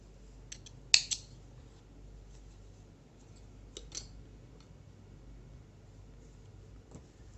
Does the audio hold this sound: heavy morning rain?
no